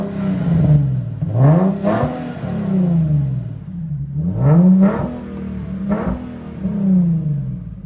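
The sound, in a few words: 2009 Nissan 370Z engine cold start and revving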